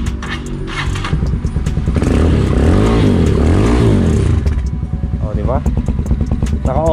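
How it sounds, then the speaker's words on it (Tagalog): A loud Chinese-made motorcycle engine with an open, unmuffled exhaust revs up and down, rumbling and crackling throughout at close range. "Open muffler."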